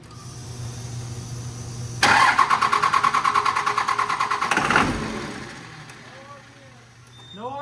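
A flatbed truck engine cranks briefly with no start, a rhythmic whirring chug of about three seconds, close by, with voices talking faintly before and after.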